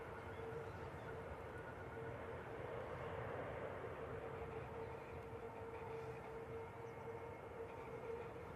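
An EasyJet airliner passes near a pub at Manchester Airport, a steady loud roar holding throughout with a broad rumbling body and a sustained tonal hum, swelling slightly midway.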